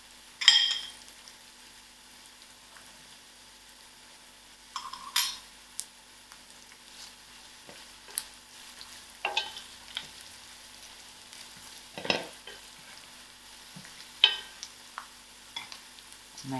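Ingredients frying in a pan for a spinach and orange masoor dhal curry, with a soft, quiet sizzle broken by occasional clinks and scrapes of a utensil against the pan.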